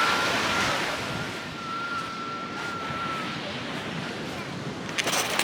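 Ocean surf rolling onto a North Carolina beach as the tide comes in, a steady broad wash of breaking waves mixed with gusty wind buffeting the microphone, with no voices.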